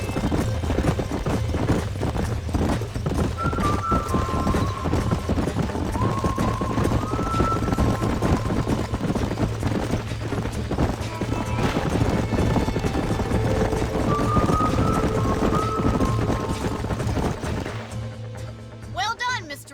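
Horse hooves clip-clop steadily and quickly across a ranch in the Red Dead Redemption video game, a continuous rhythmic pounding under ambient game sound with a few brief tonal calls, fading out near the end.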